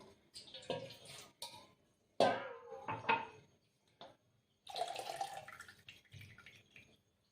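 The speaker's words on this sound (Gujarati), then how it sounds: "હવે આપણે આમાં અડધા ગ્લાસ જેટલું પાણી એડ કરીશું" Water splashes into a pot in a few brief pours, close and fairly quiet, with gaps of near silence between.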